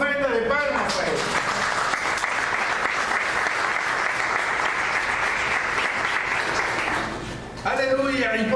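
A church congregation breaks into sustained, loud applause as an offering of praise to God, a dense wash of clapping lasting several seconds that dips briefly near the end before a voice returns.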